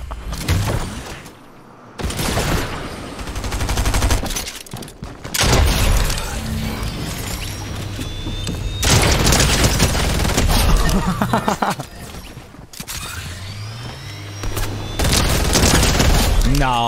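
Rapid, continuous weapon fire in the Fortnite video game, bursts of shots and booms shredding through builds with crashing debris, loud and dense, with some talk mixed underneath.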